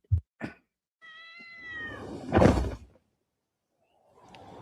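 A cat gives a drawn-out meow that rises into a strained, howling cry, close and clear, after a couple of brief thuds, then quiet with a soft rustle.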